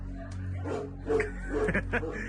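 Several dogs at an animal shelter holding about 700 dogs bark and yip at once, overlapping in a noisy chorus at moderate distance.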